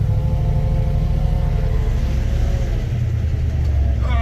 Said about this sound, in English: Just doing her job. Good old truck.